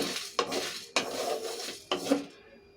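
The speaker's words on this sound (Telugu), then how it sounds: "ఇందులోనే ఎండుమిరపకాయలు ధనియాలు జీలకర్ర మిరియాలు కొద్దిగా లైట్గా ద్వారగా వేపుకుందామండి" Red chillies, coriander seeds, cumin and pepper dry roasting in an oil-free pan, with three or four distinct metallic scrapes and clinks of a spoon against the pan and a light rustle of dry spices between them, close up.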